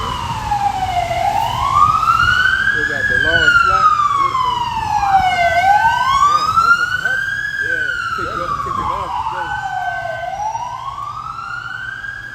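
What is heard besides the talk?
sirens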